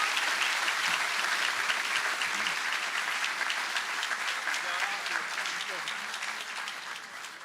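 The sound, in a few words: applause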